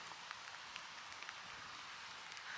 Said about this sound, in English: It is actually properly raining.